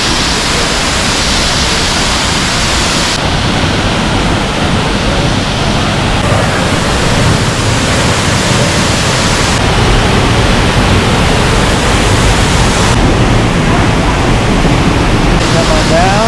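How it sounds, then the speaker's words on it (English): Waterfalls in Costa Rica pour with a loud, constant roaring rush that fills the scene without letup, heard close by. "These are the waterfalls now in the afternoon and in the shade."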